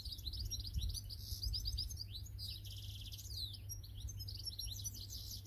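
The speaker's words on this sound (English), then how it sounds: "It's a little goldfinch singing in the tree behind me." A goldfinch sings from a tree outdoors, a rapid run of bright twittering chirps and trills that continues throughout, fairly distant and soft over a low steady background rumble.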